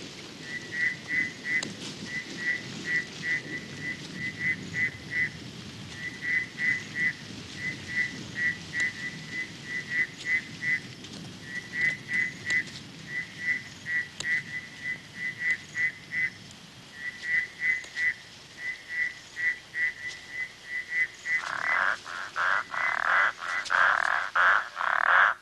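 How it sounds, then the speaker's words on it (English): Frogs call at night at a rainy-season pond in the African bushveld, repeating rapid whistling pulses in rhythmic bursts, then a louder, denser chorus swells near the end over a soft background hiss. "About 20 different kinds of frogs will breed at night in this pond."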